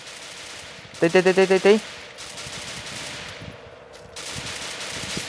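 Gunfire from an enemy in the Free Fire game, a quick burst of about six close, loud automatic shots, followed by quieter background game noise while someone speaks briefly.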